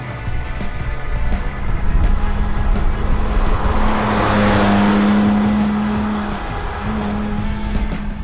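A Porsche 997 Turbo with a PDK gearbox on a test drive gives a steady, close engine drone with tire and road noise. The engine swells in the middle with a sustained tonal whine, then eases back.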